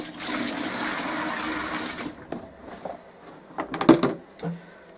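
Water runs and splashes into a basin as a paintbrush is washed in warm soapy water, a steady gushing that cuts off after two seconds, followed by scattered clinks and a short burst of splashing and sloshing.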